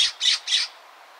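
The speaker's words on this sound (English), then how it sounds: "Number 5, the California scrub jay. These are medium-sized blue and gray birds with a loud, angry-sounding call." A California scrub jay gives three loud, harsh, angry-sounding squawks in quick succession, close and clear, followed by quiet.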